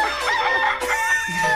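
A loud rooster crow used as a sound effect for a radio podcast segment, a rising strained call with harmonic layers that fills the whole short moment, standing alone without talk.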